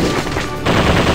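Machine gun fire from the Dreamcast game Zombie Revenge, a loud continuous burst of rapid shots filling the whole brief moment with a dense rattling roar.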